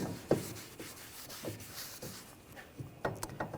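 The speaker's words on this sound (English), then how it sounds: "And wipe it with a rag." A rag rubs and scrubs over a rear brake part from a 2014-2020 Nissan Rogue, giving soft, close friction strokes in uneven bursts with a few sharper scuffs.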